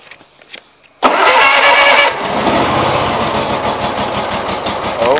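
A John Deere engine that has sat unused cranks once and catches with a loud roar, then settles into a steady, throbbing run close by; faint knocks precede the start.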